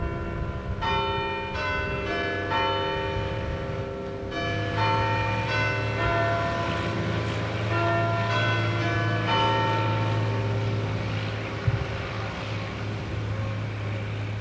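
Church bells from the famous tower in the Welsh village of Gresford ring in a steady repeating pattern of clear, ringing tones, heard at a moderate distance over a low, constant background hum.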